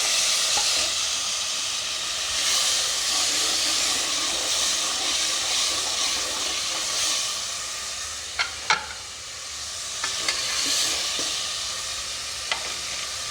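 Four chopped tomatoes hit a pan of browned onions for a mixed vegetable sabzi, setting off a loud, steady sizzle and hiss that runs throughout, broken by a few sharp clicks near the end.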